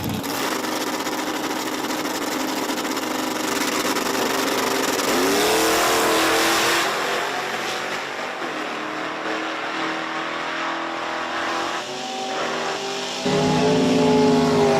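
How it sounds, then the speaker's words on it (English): Drag race at Virginia Motorsports Park between an S10 pickup truck and another car, engines roaring loud and close with rising revs, gear-change pitch sweeps and a fresh surge of engine noise near the end. "next pair got the S10 pickup truck in the left lane"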